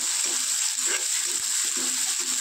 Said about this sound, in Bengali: প্রথমে আমি পেঁয়াজগুলা একটু লাল লাল করে ভাজা করে নেব